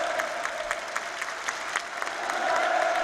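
A large audience of spectators applauds and cheers enthusiastically in a dense, continuous wash of clapping that swells slightly toward the end.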